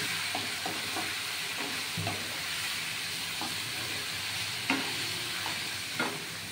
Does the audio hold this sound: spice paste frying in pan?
yes